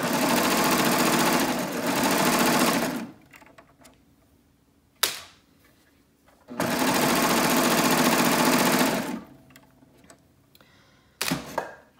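A serger sews stretchy fabric in two steady bursts of rapid stitching, each about three seconds long, separated by quiet pauses with brief clicks.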